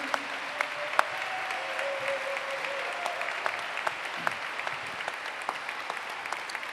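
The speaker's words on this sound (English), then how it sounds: "Let's all welcome with a round of applause, Dr. Murray Brennan." A crowd at a gala applauds steadily for several seconds, dense clapping filling the room with a few sharper claps standing out.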